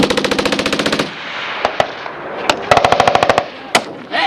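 A Marine Corps machine gun section fires at 29 Palms. A rapid sustained burst is followed by a few isolated single shots and a second short burst, all loud and sharp with echoing tails.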